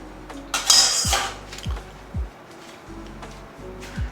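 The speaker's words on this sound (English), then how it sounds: "Just a bit of a swirl back and forth. See me mixing the crema." A teaspoon swirls espresso crema back and forth in a cup. It gives a few light, separate clinks against the cup, one about every half second, along with a brief soft rattle near the start. The sound is close and quiet, with no talking.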